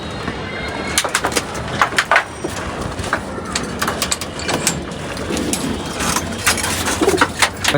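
Racing pigeons cooing in soft repeated bursts near a loft, with scattered wingbeats and faint background engine noise, no voices.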